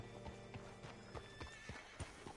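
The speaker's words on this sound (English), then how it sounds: "Hitch your horse up here." Horse hooves clip-clop at a steady walking rhythm in Red Dead Redemption 2 on PS4, with a faint whinny. The sound is quiet and fairly distant, with no talking.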